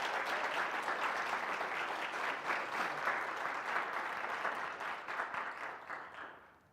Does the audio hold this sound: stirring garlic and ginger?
no